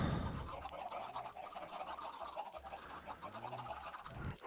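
Minecraft chickens cluck in a game world, several short, soft clucks and honk-like calls scattered over faint background noise, with no talking.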